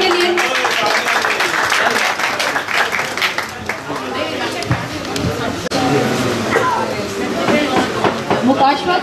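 An audience claps loudly and continuously at a ninth birthday anniversary event for a TV channel, with a speaker talking over the applause throughout.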